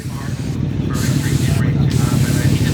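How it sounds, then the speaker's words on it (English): A car wash spray hisses onto a muddy rear panel near the deck lid in two long steady bursts, with a short break between them, loud and close in hot direct sun. "Spray that."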